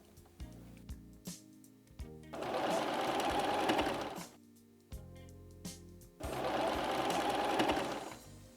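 A sewing machine stitches in two long loud bursts of fast mechanical whirring, each set off by a few short clicks and knocks and separated by quieter pauses, close by, as a sewing lesson has the machine backstitching at the start of a seam.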